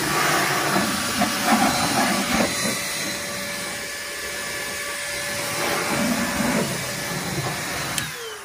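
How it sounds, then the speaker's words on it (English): An Air Force Blaster SideKick air dryer blows a steady, loud hiss of air for the whole stretch, its rushing tone swelling and easing slightly as it is moved around, with a brief sharp click near the end. "I can just grab this and walk all over the place and blow at things"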